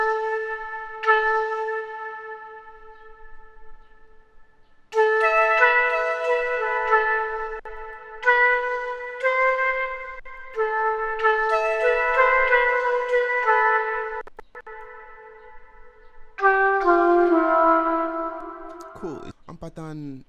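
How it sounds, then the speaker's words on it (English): A bright synth trumpet in a hip-hop beat plays a melody of held and stepping notes in several phrases, with short pauses between them. "this one is like a trumpet instrument that was used to spike up the melody of the beats"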